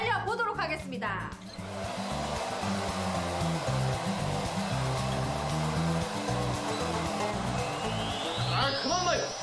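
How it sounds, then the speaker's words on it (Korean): A JMW hair dryer blows with a loud, steady, whooshing roar for the whole stretch, close by, over faint background music. "JMW 드라이기 과연 어디까지 말릴 수 있을 것인가?"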